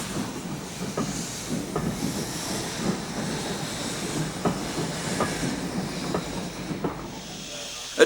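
A J36 steam locomotive hauls a train on the long Scottish branch line to Kelso and Berwick, heard as steady hissing and a rhythmic wheel clatter at moderate distance, fairly quiet, with no talking.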